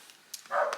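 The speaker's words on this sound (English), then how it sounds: "can you hear her barking?" A small dog gives one short, faint bark or yip a little way off, heard alone against a quiet room.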